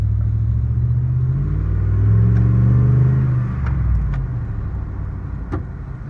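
A pickup truck, apparently a Duramax L5P diesel, rumbles closer with a deep low engine drone that swells to a peak midway and then eases off, with a few faint clicks and no talk.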